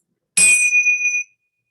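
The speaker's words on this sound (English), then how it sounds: "I'm just going to clean the palette with the chimes." A single bright strike of metal chimes rings out clearly and sustains for about a second before fading. It marks a transition between sessions in a summer solstice gathering, with no talking over it.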